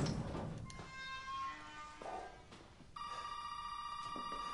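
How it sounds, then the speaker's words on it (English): An in-game telephone in Resident Evil 7 rings with a bright electronic trill, faint and somewhat distant amid dim game ambience, with a clearer sustained ring near the end. "Oh, now the phone."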